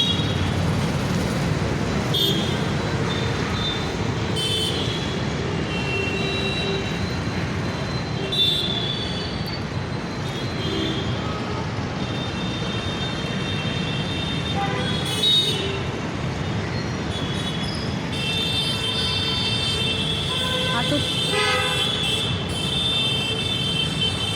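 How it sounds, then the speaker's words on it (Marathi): Heavy vehicle rumbling across the Pardi flyover bridge in Nagpur, a steady low roar with rattling and faint squeals, continuous and fairly loud for the whole stretch. "बघू शकता तुम्ही अतिशय जड वाहन आहे"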